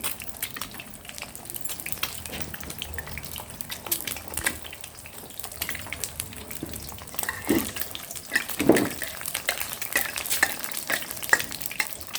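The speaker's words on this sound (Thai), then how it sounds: "อันนี้เราจะทอดแบบไข่ดาวไม่สุกครับพี่น้อง" An egg frying sunny-side-up in hot oil, with a steady close sizzle broken by irregular splattering pops and crackles, growing louder toward the end, with no talking.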